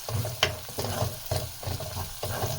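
Spices with coriander powder roast in a pan with mustard greens for sarson ka saag, a low sizzle broken by rhythmic stirring scrapes about every half second, close and fairly quiet.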